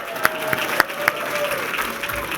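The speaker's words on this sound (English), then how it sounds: "So let's give them a round of applause." Applause from the audience at a mayoral election victory night, a dense wash of clapping with a few sharper claps standing out, filling the whole stretch without any voice over it.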